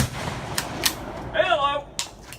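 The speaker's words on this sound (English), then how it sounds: "Magnum load is about shooting a 10 gauge, so this is gonna be lovely" A 10 gauge shotgun fires a Federal 3.5 inch Magnum turkey load in a single sharp, loud blast at a range, with a brief ringing tail and a few smaller clacks around it.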